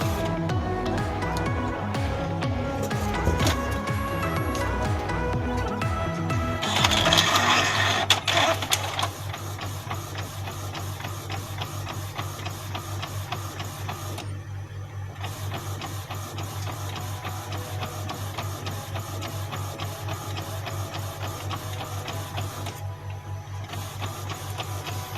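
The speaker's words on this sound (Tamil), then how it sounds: "இப்போ அங்கே பாருங்கள் ஹெட்டு மூவ் ஆக ஆரம்பிச்சிருச்சு" An inkjet printer's head shuttles back and forth while printing a passport photo, giving a steady mechanical whir with rhythmic whines, a louder buzzing burst midway, then a sustained even hum.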